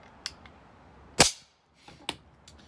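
A Taipan Veteran PCP air rifle fires one sharp, loud crack up close, with quieter clicks and handling noises before and after it.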